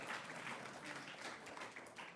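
An audience at a poetry reading breaks into a short burst of dense applause that fills the hall.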